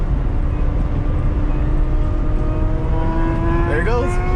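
Motorcycles accelerating hard on a Texas highway, heard from inside a big truck cab as a steady road rumble under rising engine tones that climb toward the end, with a voice speaking over it.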